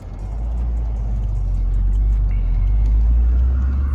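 A Honda Prelude fitted with a test pipe exhaust cruises along, heard from inside the car as a loud, steady low drone and rumble of engine and road noise with no change in pitch.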